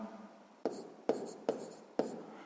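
A pen writes a maths answer on paper at close range, with four quick, faint scratching strokes spaced roughly half a second apart.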